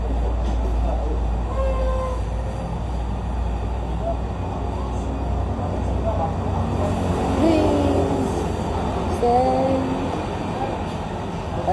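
Steady low rumble of a train rolling along the rails, with faint metallic squeals and voices chattering in the background throughout.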